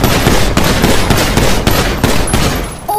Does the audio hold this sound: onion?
no